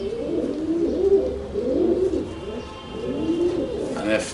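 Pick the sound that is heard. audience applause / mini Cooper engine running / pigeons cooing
pigeons cooing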